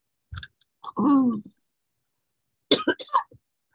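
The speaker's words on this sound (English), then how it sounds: "If I start coughing, I apologize." Several coughs and throat-clearing sounds come close to the mic: a short burst, a longer rasping cough, then a cluster of quick coughs after a pause.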